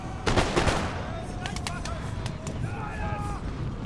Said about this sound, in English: These are my grenadiers who are firing. They're using fire by rank.